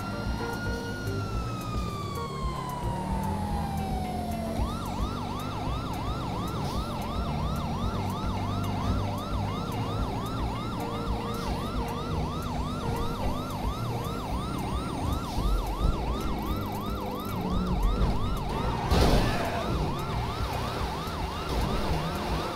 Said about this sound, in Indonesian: Kita harus matiin sirine.